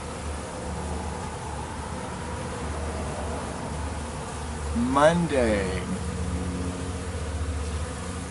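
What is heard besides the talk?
bees buzzing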